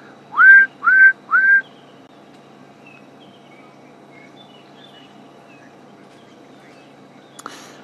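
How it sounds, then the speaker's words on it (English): A scimitarbill calls on a morning safari drive with three clear, rising whistled notes in quick succession at the start, then quiet open-air background, with a brief faint knock near the end. "In the background, such a lovely subtle whistle."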